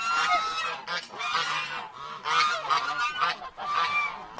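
Geese honk inside a goose shed in repeated loud, overlapping bursts, several birds calling at once in waves close by, with no talking.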